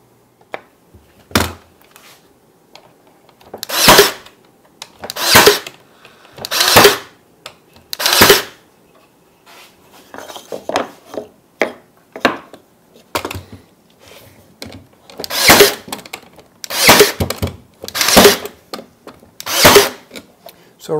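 A handheld power drill bores holes into a wooden armoire, with repeated bursts of whirring motor noise a few seconds apart, some longer runs, and quiet pauses and handling thunks between them, close and loud.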